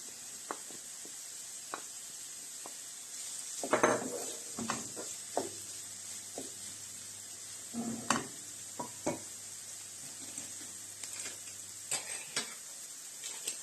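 Steady sizzling of onion frying in a pan, with occasional scrapes and clinks of a utensil stirring against the pan.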